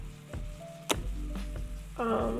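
BBQ meatballs frying in a pan, a hissing sizzle with scattered sharp pops and spatters, and a louder bright burst of sizzling toward the end; no speech over it.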